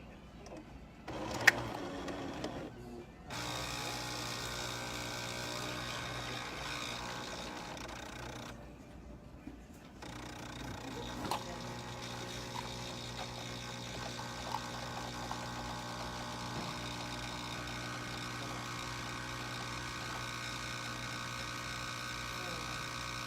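A Jura coffee machine dispenses a shot of espresso with a steady pump hum and whir. Brief clicks and pauses break the sound, then the machine resumes running at an even level.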